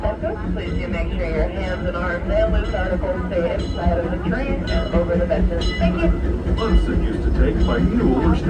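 A Disneyland Railroad steam train rolls steadily along its track on a park circle tour, with a continuous rumble and faint metallic clatter throughout, under a busy wash of background noise.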